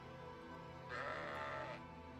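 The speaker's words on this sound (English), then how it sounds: "A sheep? I'll take a sheep." A sheep in the video game Fire Emblem Engage lets out one drawn-out bleat lasting under a second over a steady background of game music, with no talk.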